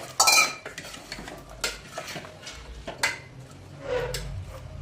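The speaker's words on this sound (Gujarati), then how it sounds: "હવે આમાં આપણે કાપીને રાખેલા બટેટા ઉમેરી દઈશું." Chopped potatoes tumble into a pan of roasted spices, an opening metallic clatter followed by scattered scraping and clinking of a spoon against the pan, close and with no talking.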